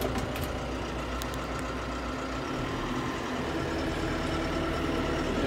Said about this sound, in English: we're going to head and get this tractor rolling.